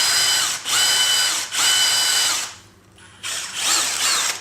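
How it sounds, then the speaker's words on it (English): Power drill boring deeper screw holes while fitting a motor kit to a Kmart bicycle, loud whining bursts with brief stops between them and a short pause before a final run. "grab a drill and drill these a bit deeper so the screws would be able to go down further"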